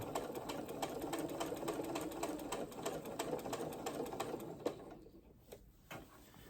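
A sewing machine stitches a V-neck shirt in a rapid, even run of needle clatter that slows into a few separate stitches near the end, close and moderately loud with no speech.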